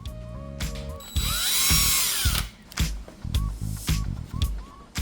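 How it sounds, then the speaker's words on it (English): A power drill drives a screw while a 360 camera is mounted on the side mirror of a 2020 Toyota Corolla. A whirring burst of about a second and a half, close and fairly loud, sits between short ratcheting clicks and handling taps. "I used one of the included screws to mount one side as I figure out the position of the other hole."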